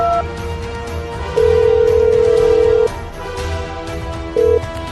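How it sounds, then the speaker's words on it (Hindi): A telephone rings on an outgoing call, steady electronic ringback tones with a long buzz and a shorter repeat over a dense background music bed. "जकीरा को फोन लगाओ।"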